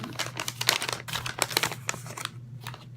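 A paper mailing package holding squishy toys is crinkled and handled up close, giving a busy stream of rustles and crackles with a few sharper crumples, with no talking.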